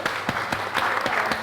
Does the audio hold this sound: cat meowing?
no